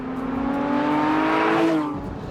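A Porsche 911 GT3 S/C revs with its top down, a loud, close engine note rising steadily in pitch and then falling away over about two seconds.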